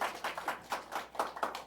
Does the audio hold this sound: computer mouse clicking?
no